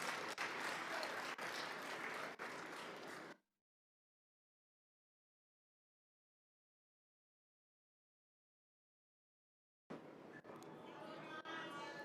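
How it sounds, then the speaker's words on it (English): Applause from members in the South African parliament during a State of the Nation debate reply, loud crowd clapping with chatter that cuts out into several seconds of silence before resuming. "We can applaud our presiding officers for the excellent work that they have"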